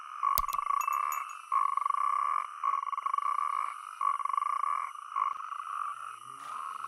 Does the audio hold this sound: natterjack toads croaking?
yes